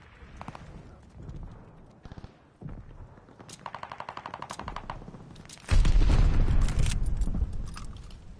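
Call of Duty Vanguard gunfire crackles in rapid bursts of automatic fire, building to loud sustained shooting with heavy low impacts near the end of the stretch.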